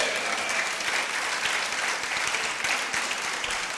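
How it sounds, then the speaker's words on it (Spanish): A church congregation applauds the Lord in a sustained, dense wash of clapping that stays loud and even throughout. "Le dan un aplauso al Señor."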